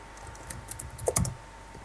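Someone typing a message on a computer keyboard, a quick burst of close key clicks with a couple of heavier strokes near the end, no voices.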